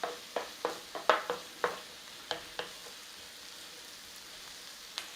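Onions softening in a pan, a faint low sizzle under a run of sharp clinks and taps from stirring utensils early on, then quieter frying with an occasional knock, close and soft, no voices.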